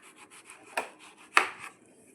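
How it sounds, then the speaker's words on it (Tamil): A knife cuts through a block of khoa on a board for ice cream, giving two distinct, close chopping thuds with faint rubbing and scraping between them and no voices. "கோவா கட் பண்ணிக்கலாம்."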